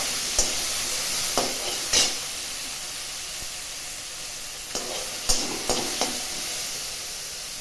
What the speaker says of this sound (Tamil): இதில் இன்னும் கொஞ்சமாக எண்ணெய் விட்டு நம்ம எடுத்து வச்சுக்கிற தக்காளியை வதக்கிக்கலாம்.